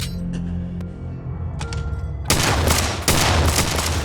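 Gunfire erupts in a Fallout TV episode: after a quieter stretch with faint sounds, a loud burst of rapid shots crashes in, then a second volley follows close behind.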